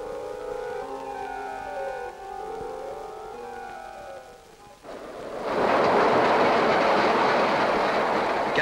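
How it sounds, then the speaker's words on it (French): A linear-motor rolling conveyor car runs around its circuit with a mechanical whine of shifting tones, then a loud, broad rushing roar as it passes close. "Le cycle de la rame est bouclé par son retour vers le point de chargement."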